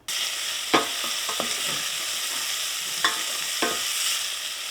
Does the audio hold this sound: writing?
no